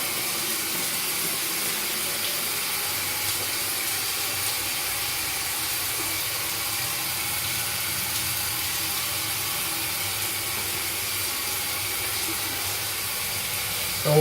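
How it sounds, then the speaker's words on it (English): Shower running water that spills onto a bathroom floor, heard as a steady, even hiss of spray that continues unbroken and moderately loud, with a small bump right at the end. "So let's just turn the shower on."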